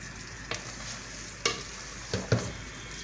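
Spaghetti is stirred in a frying pan over a steady soft sizzle, with several distinct scraping clacks of the utensil against the pan spaced about a second apart.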